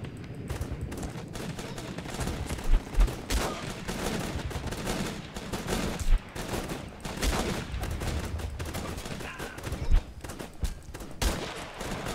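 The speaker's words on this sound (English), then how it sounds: "Yeah, that's a semi-auto sniper too." Gunfire in the war video game Guns Up, including a semi-auto sniper rifle, a busy spread of fairly faint shots and crackling bursts with several sharper single cracks spaced across the clip.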